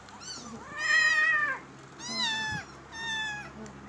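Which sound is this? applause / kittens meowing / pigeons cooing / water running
kittens meowing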